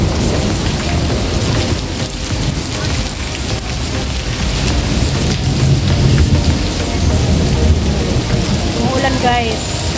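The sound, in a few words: rain with thunder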